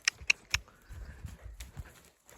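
A horse cantering over ground poles gives a quick run of sharp, close hoof strikes, three crisp hits followed by softer, uneven thuds, with no talk over them.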